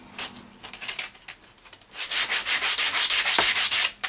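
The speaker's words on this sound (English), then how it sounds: "and give them a sanding." Rhythmic sanding of wooden frames with 100 grit sandpaper, quieter scattered rubs at first, then a run of loud, steady back-and-forth strokes close by, alone without talk.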